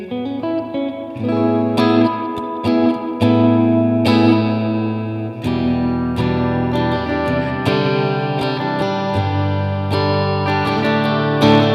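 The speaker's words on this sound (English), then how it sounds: "We'll do the clean tone first. So this is the bridge and middle pickups together." A PRS Silver Sky electric guitar on bridge and middle pickups together, played with a clean, slightly effected tone, strummed chords and picked notes ringing out steadily, no voices.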